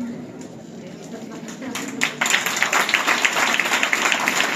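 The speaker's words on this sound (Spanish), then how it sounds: "despedimos con un fuerte aplauso a la Corte de 1998" The crowd at a street presentation of festival queens and ladies applauds the 1998 court of honour. Scattered claps swell into loud, sustained applause after a quieter opening with a voice.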